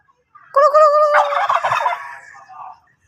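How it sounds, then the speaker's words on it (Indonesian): Turkey gobbling in response to provocation, a single close, loud warbling gobble call of roughly two seconds with rapid rattling notes, alone without talk. "jadi bahwa kalkun itu peka terhadap rangsangan ketika kita mencoba merangsang dengan bunyi dan dia akan meresponnya"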